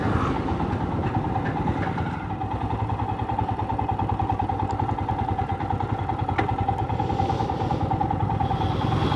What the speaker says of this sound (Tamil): எனக்கு தெரிஞ்சு இதில் சைலன்சரில் சவுண்டு வருதுன்னு நினைக்கிறேன்.